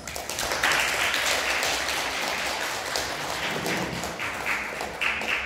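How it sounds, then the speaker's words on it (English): Audience at a debate competition final applauds the opposition team's first speaker, a steady, fairly soft wash of clapping that carries on evenly without voices. "Thank you, first speaker from the opposition team. Please give applause."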